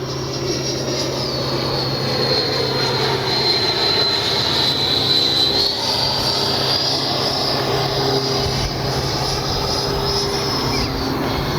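An FMS 80mm EDF F-86 jet model flies nearby with landing gear down, giving a steady, loud ducted-fan whine with a high pitch that drifts and wavers.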